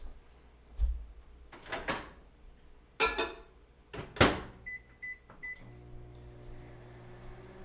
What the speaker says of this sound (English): So you just want to put it in the microwave for 1 minute.